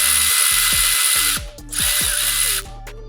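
Power drill or impact driver removing a bracket on a Lexus GX460 suspension, several short whirring bursts with ratcheting clicks between them, close and loud, no talk.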